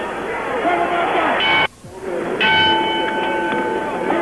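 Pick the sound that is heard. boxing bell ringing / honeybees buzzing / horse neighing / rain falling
boxing bell ringing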